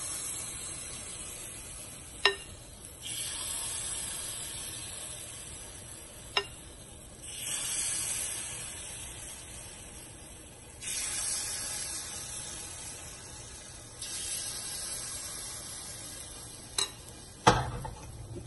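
Sweet banana paniyaram batter with sugar is poured into the wells of a hot paniyaram pan and sizzles in several soft hissing swells, with a few sharp clinks between them and no talking.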